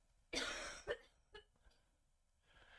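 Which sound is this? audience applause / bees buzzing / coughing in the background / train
coughing in the background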